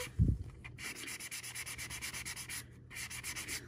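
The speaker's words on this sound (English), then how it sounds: "I'm gonna use this foam super fine and I'm just lightly, lightly rubbing" Fine foam pad lightly rubbing over painted leather bag edges, a soft rhythmic scratchy swish repeating in quick even strokes, close up, after a brief thump at the start.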